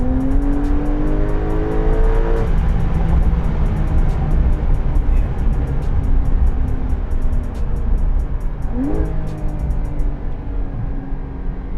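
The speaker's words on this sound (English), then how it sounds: "all of these 992s have that GT car howl, man, up top" A 2020 Porsche 992 Carrera engine howls loudly and steadily up close, its pitch climbing through the revs with a sharp upward sweep near the end.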